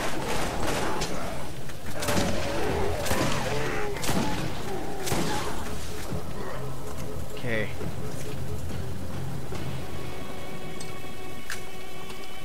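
Rapid bursts of gunfire in the Borderlands video game, with sharp repeated shots scattered throughout and layered under frequent speech and busy game noise.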